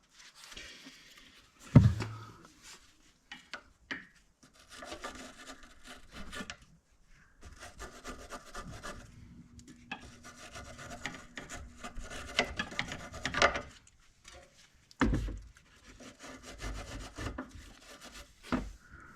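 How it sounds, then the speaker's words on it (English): A brush rubs and scrapes over front sway bar end link parts from a 2015 Jeep Renegade, coming in close, uneven bursts of rasping strokes separated by short pauses. "Scrub those down a little bit with some yeah, I lost track of the word. With a brush."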